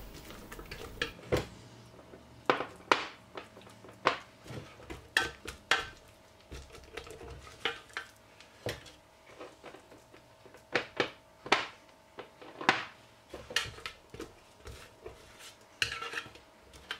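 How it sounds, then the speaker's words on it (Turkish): Garlic puree spooned into a glass jar: a run of sharp metallic clinks and scrapes of a spoon against glass, irregular and close, with no voices. "Şimdi bunu kavanoza dolduracağım."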